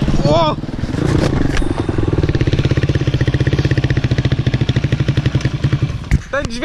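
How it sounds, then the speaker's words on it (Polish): An enduro motorcycle engine pulses in a fast steady chug at close range, with a sharp clatter near the start as the clutch lever breaks and a voice heard briefly. "Ten dźwięk to był właśnie to, że pozbyłem się sprzęgła."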